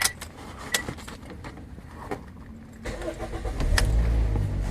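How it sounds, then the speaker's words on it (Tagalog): Starter clicks and cranking on a Toyota Vios with a loose-connection fault, then the engine catches and settles into a low rumbling idle, heard close up. "Pa-start ko na itong makina mga boss, para magkaalaman na tayo."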